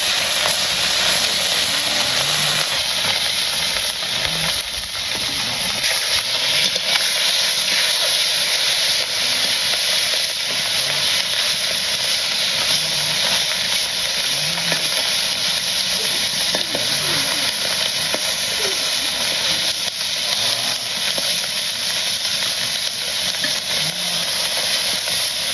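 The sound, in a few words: fish frying in a pan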